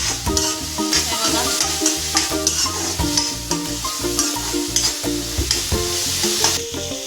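Onion and tomato frying with salt and turmeric in a pan, loud close sizzling and stirring scrapes throughout, with rhythmic music playing underneath and no speech.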